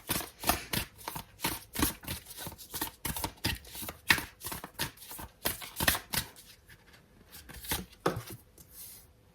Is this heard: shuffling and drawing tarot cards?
yes